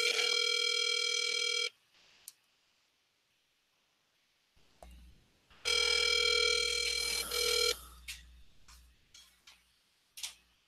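A landline telephone call rings out with two long electronic ring bursts separated by silence, followed by faint clicks and ticks on the line, heard close and alone.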